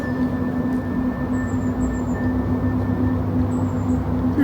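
Steady low rumble of a train station with trains running, a constant hum and faint high squeals drifting in and out, continuous and moderately loud with no talking.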